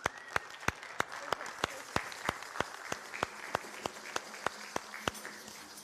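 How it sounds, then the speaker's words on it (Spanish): A church congregation at a Spanish-language service claps in a slow, even rhythm to receive two people at the altar, with about a dozen distinct claps standing out over a quiet background. "Recibámoslas primeramente con un fuerte aplauso"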